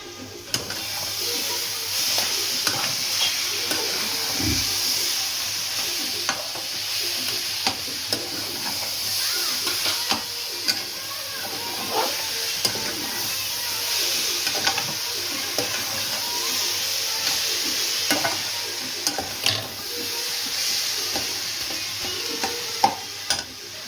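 A sweet mixture fries in a pan while being stirred for a Lakshmi puja offering: a steady, close hissing sizzle with repeated scraping stirs throughout, no voices.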